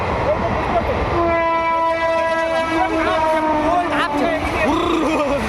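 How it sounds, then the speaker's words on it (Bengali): A train sounds a long, loud, sustained horn as it rumbles past through a tunnel, with clattering wheels underneath and a voice heard faintly in the mix. "আশা করি তোমরা শুনতে পাচ্ছ হর্নের আওয়াজ।"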